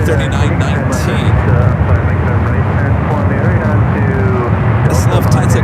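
A United 767-300ER airliner, built in 1993 and arriving from Chicago, comes in to land at San Francisco airport; a loud, steady jet engine roar fills the whole stretch while a voice talks over it.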